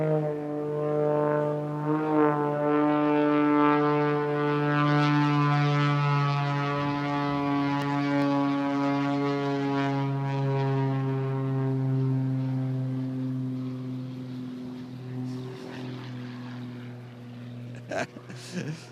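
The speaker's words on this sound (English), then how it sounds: "he's now gone into his knife edge pass, and he's going to fly all the way down the runway" An aerobatic aircraft flies a knife-edge pass down the runway at an airshow, its engine a loud, sustained harmonic drone that holds steady and then fades gradually as it passes, with a commentator speaking over it.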